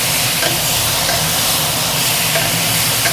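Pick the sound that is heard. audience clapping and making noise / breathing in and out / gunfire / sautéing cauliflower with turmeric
sautéing cauliflower with turmeric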